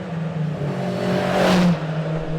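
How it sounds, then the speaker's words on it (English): A light Mk1 Ford Escort's four-cylinder engine revving, a steady loud drone that swells briefly into a higher rev in the middle before settling back, heard alone without talk. "I think 4 cylinders are underrated as well. Such a lovely, glorious sound."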